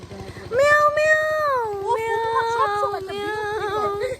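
Cat meowing out on a street during a winter walk, a run of long, drawn-out rising and falling meows close by and fairly loud, one after another with almost no pause.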